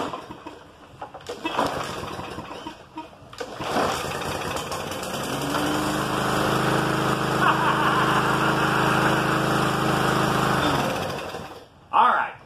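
Briggs push mower engine pulled to life by its cord, a rough tug and sputter giving way to a steady close droning run that holds for several seconds before cutting off, with brief talk near the start.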